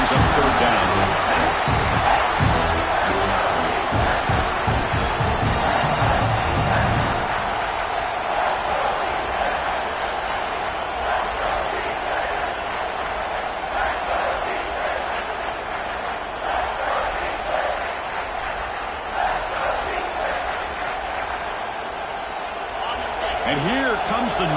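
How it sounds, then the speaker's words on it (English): Loud, continuous roar of a football stadium crowd swelling during a third-down red zone defensive stand, a dense wash of cheering and shouting that holds steady throughout with faint commentary voices mixed underneath. "And here comes the noise. This crowd is trying to inspire this defense to make a big red zone stop."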